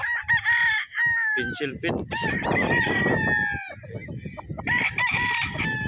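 A young claret gamefowl stag crows loudly and close, with repeated strained cock-a-doodle calls and some clucking, while someone speaks briefly in between.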